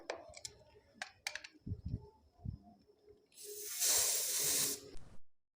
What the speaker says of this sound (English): I will purge the hose I installed with the cylinder.